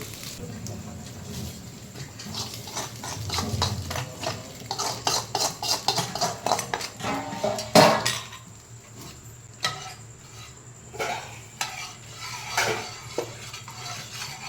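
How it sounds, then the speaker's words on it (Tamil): Clinking of a spoon against a pan while tempering dried red chili and garlic for sambar, with some stirring and faint sizzling, a rapid series of metallic taps followed by scattered clinks. "தாளித்து எல்லாத்தையும் கொட்டியாச்சுங்க"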